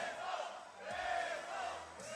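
Fight crowd in Monterrey roaring and cheering, a dense, continuous wash of many voices swelling and dipping, heard from within the arena.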